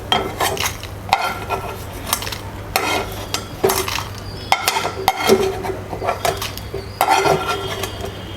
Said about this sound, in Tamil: இப்போ இதை ஒரு பவுலுக்கு மாற்றிக்கலாம்.